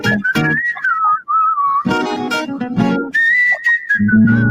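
A person whistles a wavering, melodic tune in short phrases, close and clear, with brief bursts of voice and laughter between the whistled notes.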